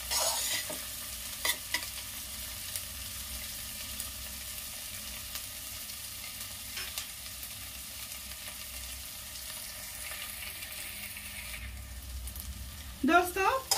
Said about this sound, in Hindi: प्याज को मैं 2-3 मिनट ऐसे भून ली हूँ